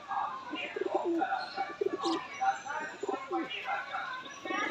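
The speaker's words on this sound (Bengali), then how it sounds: "সুমনদার এক পেয়ার টেডি কবুতর" Teddy pigeons coo in a loft outside a house, with soft repeated throaty burbling calls close by and continuous, plus a brief higher chirp midway; a voice talks faintly under them.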